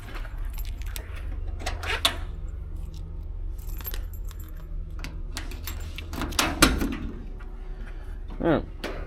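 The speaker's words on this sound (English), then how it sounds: "I'm gonna grab the keys." Car keys on a 1966 Cadillac DeVille convertible jingle in short bursts, with a few clinks and handling clatter. They sound close but fairly quiet, set against a low background hum.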